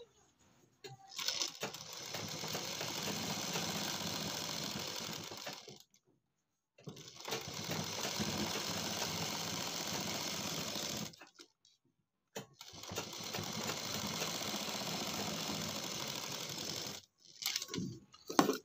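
Sewing machine stitching a frill sleeve, running in three sustained bursts of steady mechanical whirring separated by short pauses, fairly close and with no talk.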